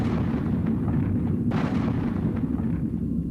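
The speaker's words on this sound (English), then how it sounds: "A heavy caliber gun that had been in use by American forces since the Second World War, the 105mm howitzer." Heavy booming blasts from a 105mm howitzer, a heavy-caliber gun used by American forces since the Second World War, rumble loud and continuous with a sharper report near the middle.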